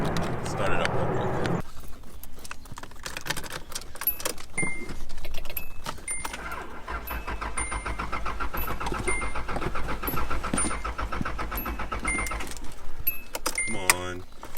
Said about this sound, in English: jump in the car, start it up real quick